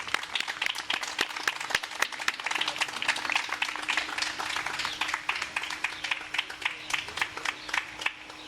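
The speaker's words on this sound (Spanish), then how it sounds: "Aplausos, por favor." An audience applauds to welcome a guest speaker, with dense, steady clapping from a room full of people that continues evenly throughout.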